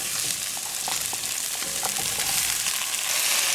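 Onions and green peppers sauté in a pan, giving a continuous close sizzle with faint scraping and stirring clicks mixed in. No speech is heard.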